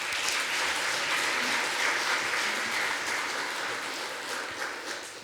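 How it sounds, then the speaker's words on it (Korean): A church congregation claps steadily and loudly for several seconds welcoming a speaker, a dense wash of applause that tapers slightly at the end. "강사님 나오실 때 큰 박수로 맞이하도록 하겠습니다."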